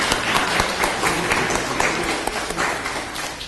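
A conference audience gives a dense, loud round of applause for the cook of a meal, many hands clapping at once in a continuous wash that holds steady throughout.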